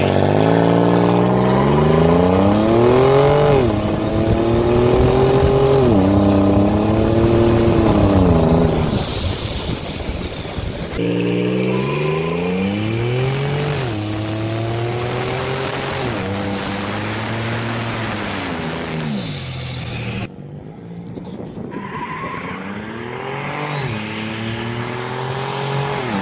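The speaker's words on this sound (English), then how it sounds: "That was a third fucking gear burnout in this piece of shit." A turbocharged Pontiac Trans Sport minivan with a V6 roars through a third-gear burnout. Its engine climbs repeatedly in pitch and drops back over several loud, close revs, backed by a harsh, hissing tire-spin roar.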